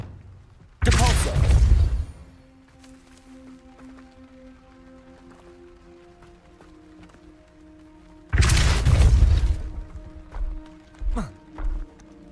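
Depulso spell cast in Hogwarts Legacy, two loud bursting whooshes several seconds apart over a quiet ambient hum, followed by a few softer thuds.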